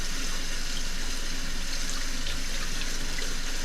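Warm water runs steadily from a tap over bloody catfish fillets being washed in a sink, a constant close hiss and splash with no pauses.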